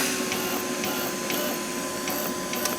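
A MIG MAG welder feeding wire out for repairing rust holes on a car body gives a steady, close, mechanical whirring hum from the wire feed motor, running continuously at an even level with a faint tonal whine.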